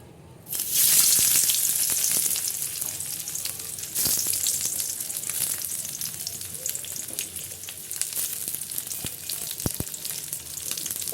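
Onion and garlic hit hot oil in a wok with a sudden loud sizzle, then settle into a steady, close crackling fry with occasional stirring clicks.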